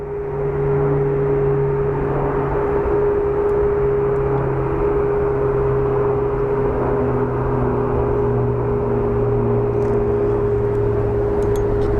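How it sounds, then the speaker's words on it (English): An American Airlines Boeing 737 taxiing at Phoenix Sky Harbor, a steady loud jet engine whine and rumble with sustained tones, continuous and unchanging throughout, no voices. "here we have what appears to be a Boeing 737 operated by American Airlines taxiing over."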